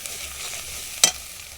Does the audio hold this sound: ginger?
yes